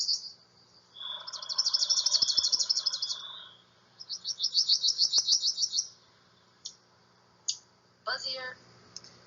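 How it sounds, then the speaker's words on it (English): Palm warbler song: two loud, close buzzy trills of rapid repeated notes, each about two seconds long, followed by a few short chips and a brief sputtered call, with a faint voice talking underneath. "we have the palm warbler song here."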